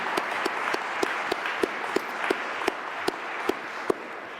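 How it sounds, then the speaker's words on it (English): Sparse applause from a small audience at a panel discussion with authors, a steady bed of clapping punctuated by a few sharp, distinct claps from nearby hands. "give us a round of applause for our authors"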